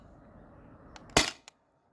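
Modified Sabre 68 airsoft gun running on HPA at 700 PSI fires a single sharp, close pop, with a couple of faint clicks around it and quiet afterward.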